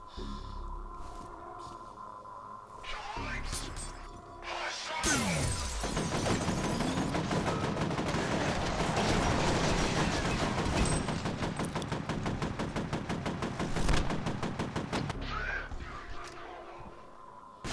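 Sustained automatic gunfire in the shooter game F.E.A.R., a long, loud rapid rattle of shots that begins abruptly after a brief lead-in and continues for over ten seconds before tapering off.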